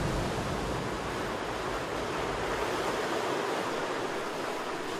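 Rough ocean surf crashes continuously against lava rocks on the Galapagos shore, a dense, steady roar of churning water close by with no voices.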